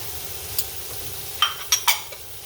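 Vegetables stir-fried for Filipino chop suey: a soft sizzle under a few quick metallic scrapes and clinks of a utensil against the pan, close up and with no talking.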